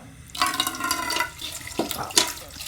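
Tap water runs into a sink as hands are washed, a steady close splashing stream that rises and falls with a couple of louder splashes near the end.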